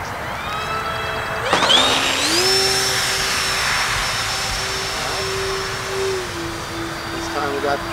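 An E-flite Twin Timber RC airplane's twin electric motors whine steadily as it flies in to land in a little wind, the pitch rising then holding and dropping slightly, with people talking nearby.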